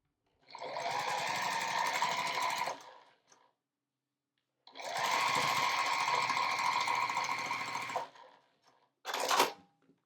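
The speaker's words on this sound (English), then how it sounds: "and then we're going to sew the next 2 together" A sewing machine runs in two steady bursts of stitching, joining small quilt scrap pieces, with a short third whir at the end; the whirring is close and clear with pauses between runs.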